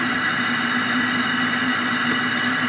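A John Deere 755 compact tractor's diesel engine runs at a steady idle, loud and close, with an even droning hum and no talk over it.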